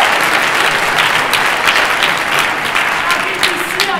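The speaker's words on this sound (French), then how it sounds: "On applaudit, s'il vous plaît." Audience applause at a live event in Quebec, a dense steady wash of many clapping hands filling the whole stretch at full loudness, with no voices rising above it.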